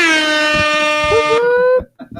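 A loud, blaring air horn sounds in one long sustained blast, drops in pitch near the end, then cuts off into brief quiet with faint background noise.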